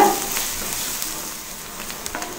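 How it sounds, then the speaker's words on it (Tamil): Onion and garlic frying in a pan for Tamil-style garlic rice, a steady soft sizzle and hiss close by with a few small crackles, no voices. "இந்த வெங்காயமும் பூண்டும் நல்லா பொன்னிறமாக வறுத்து எடுத்துக்கலாங்க"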